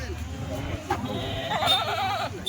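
Kathiawadi goats bleat while being loaded, with several calls over a steady background of voices and handling noise, and someone talks and counts over them.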